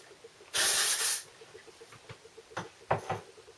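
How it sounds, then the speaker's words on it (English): Dry shampoo sprays onto hair roots in one strong hiss lasting under a second, followed by quieter rustling and short handling sounds nearby. "I'm gonna grab my dry shampoo, just gonna give it a bit of a spritz through"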